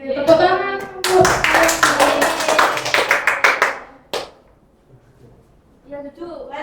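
A classroom group claps hands in a quick burst of brisk, close claps lasting a few seconds, framed by someone speaking before and after.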